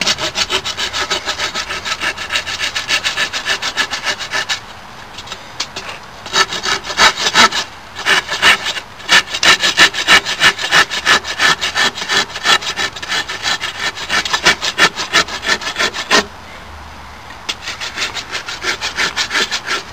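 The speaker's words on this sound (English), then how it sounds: "For this one, we're just going to sand it down completely" Rough abrasive strokes rub back and forth across a wooden longbow handle being sanded down, in steady rhythmic bursts with a couple of brief pauses. The sound is close and fairly loud, with no voices.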